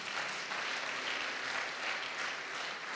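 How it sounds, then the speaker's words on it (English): A church congregation applauding steadily, a thick, continuous wash of many hands clapping at once that holds an even level throughout. "give God a mighty hand clap"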